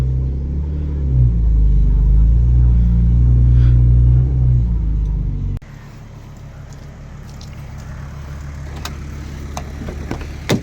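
An old barn-find BMW engine rumbling loudly at a low idle, then cutting to a quieter stretch of distant engine hum broken by clatters and knocks, with people talking over it.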